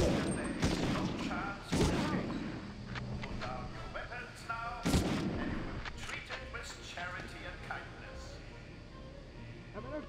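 Gunfire and explosive blasts in the Medal of Honor video game: a few heavy booming shots near 0.7, 1.8 and 5 seconds stand out above a steady battlefield din, with people talking over it.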